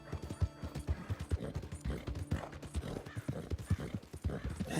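Horse hooves clip-clop in a quick, steady rhythm as a rider leaves town in Red Dead Redemption 2, close and fairly quiet, with a faint whinny in the mix.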